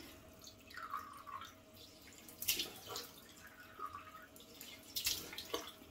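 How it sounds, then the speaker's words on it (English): A bathroom tap runs while cold water is splashed onto the face at a sink, heard as soft trickling with a few louder splashes. Someone briefly speaks near the end. "So now let's splash on some cold water so I can put on the alum block."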